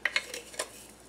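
Freshly ground rosemary being stirred into cracker ingredients in a bowl: a few sharp clinks of a utensil against the dish followed by soft scraping, close and brief.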